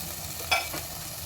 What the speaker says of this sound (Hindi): दो से 4 मिनट हम इसको भूनने देते हैं।